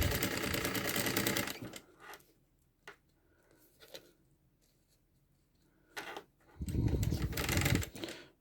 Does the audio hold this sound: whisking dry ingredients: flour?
no